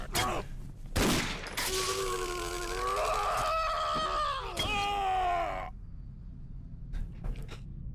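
Enemy gunshots in the horror game Condemned: Criminal Origins crack in a few sharp, loud bursts, separated by stretches of groaning, wavering tones that fade into near quiet at the end.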